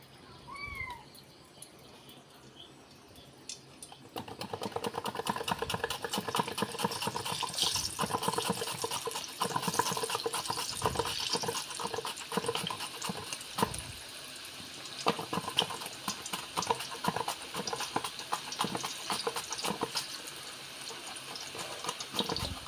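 Thin potato slices dropped into hot oil for homemade chips, setting off a steady, dense crackling sizzle that starts after a few quiet seconds and continues loudly to the end.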